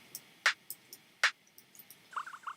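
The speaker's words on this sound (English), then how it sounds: "It's like a pitch down hat with a rim." A couple of dry, snappy percussive hits from a pitched-down hi-hat sample layered with a rim, spaced under a second apart, followed by faint scattered ticks.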